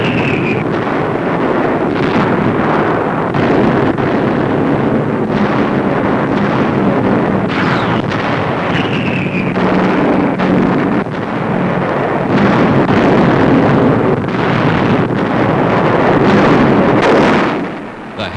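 Archival war newsreel soundtrack of Allied bombing behind Nazi lines north of Rome, a loud, continuous rumbling roar of explosions and blast noise with heavy broadband texture, no clear separate blasts, sustained throughout.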